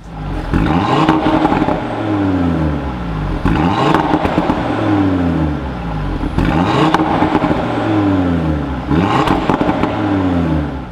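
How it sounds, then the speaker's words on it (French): An Audi S3 four-cylinder on its stock exhaust revs repeatedly, rising and falling about four times in a steady rhythm, with light crackles and pops on each lift-off. It is loud and close, with no voices. "Donc là, vous avez vraiment l'échappement S3."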